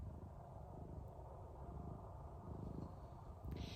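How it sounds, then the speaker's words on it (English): A steady, low rumbling purr from a cat, continuous and close, with a soft rhythmic pulse and no voices. "just closing your eyes and listening to cat purr"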